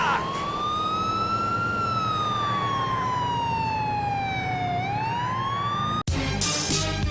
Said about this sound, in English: If the police siren is not activated manually, it will be turned on automatically when arriving at Burger Shot